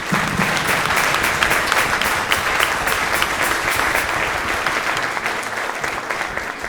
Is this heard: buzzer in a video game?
no